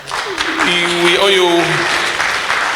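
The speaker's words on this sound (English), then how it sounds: "a round of applause" An audience applauds steadily at a talk or meeting, a sustained wash of clapping that runs the whole time while someone speaks over it.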